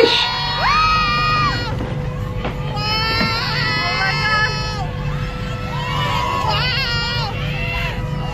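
Fans scream and cheer loudly in Times Square, New York, with shrill high-pitched shrieks rising over a dense crowd babble, close and continuous.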